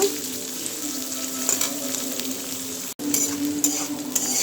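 Onion and green chilli frying in a pan for a small-fish curry, giving a steady, close hiss of sizzling oil with occasional stirring scrapes. The sizzle drops out briefly partway through, then returns.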